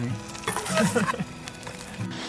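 Fried noodles and sausages sizzle and crackle in a pan, with stirring scrapes and a brief voice in the background, a close, short burst of frying.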